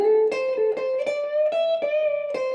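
A slow electric guitar lick on the minor pentatonic scale, with distinct picked notes, rising bends and a touch of vibrato, played cleanly and close.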